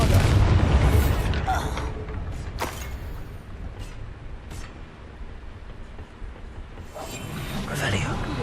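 Bombarda blasting spell in Hogwarts Legacy, a heavy booming explosion that rumbles and decays, with sharp crackling debris bursts afterward and a game voice speaking over parts.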